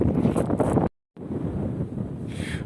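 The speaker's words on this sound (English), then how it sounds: "the wind is really strong" Strong Atlantic wind buffets the microphone in a coastal park in Galicia, northern Spain, making a loud, rough rumble that cuts out briefly and then returns.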